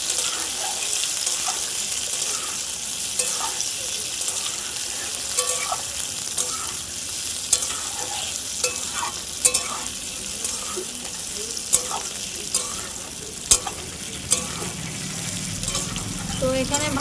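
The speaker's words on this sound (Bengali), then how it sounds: "সর্ষের তেলে কিন্তু এটা করবে আমলকিটা সুন্দর করে একটু ভেজে নেবো" Amla pieces fry in hot mustard oil, giving a steady close sizzle with the scrape and clack of a stirring spoon now and then, and a faint voice in the background.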